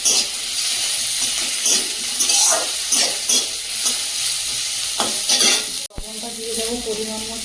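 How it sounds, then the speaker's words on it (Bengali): Garlic, whole garam masala spices and chopped onion frying in a pan, a loud steady sizzle with stirring scrapes throughout, briefly cut by a clatter near the end before the sizzle resumes. "কয়েকটা রসুন দিয়ে দেবো, গোটা গরম মশলা দিয়ে দেবো, কুচিয়ে রাখা পেঁয়াজটাও দিয়ে দেবো।"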